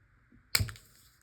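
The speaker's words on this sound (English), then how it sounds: "I'm just doing a straight cut just to finish off the pocket." Scissors make one straight cut through paper to finish a pocket for a junk journal page, heard as a single short, crisp snip that fades quickly in an otherwise quiet room.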